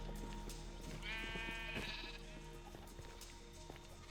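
A sheep bleats once in Minecraft, a short wavering bleat standing out over a steady game background hum and faint clicks.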